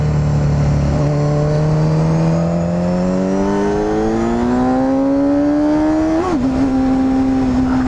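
Honda CBR250RR motorcycle on a test ride, its high-revving engine climbing in a long steady whine toward 20,000 rpm, then briefly dipping at a shift and settling, loud and close throughout.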